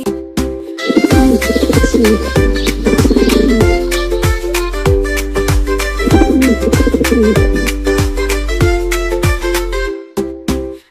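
Pigeon cooing in a Bengali children's cartoon rhyme, set against steady, loud musical backing that repeats in a regular pattern for the whole stretch.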